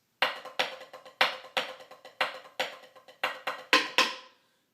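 Opening measures of the drumline cadence Apollo, roughly a dozen sharp, evenly spaced drum strokes with ringing decay, played alone and close, building slightly before the last hits fade into silence.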